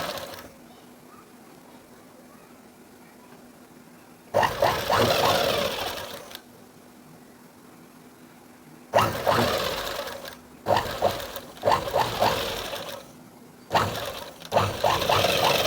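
A sewing machine stitching a cross belt runs in several loud bursts of rapid, whirring stitching, separated by quieter pauses with a faint hum.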